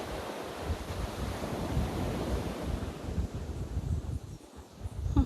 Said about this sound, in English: So this is the ocean behind me.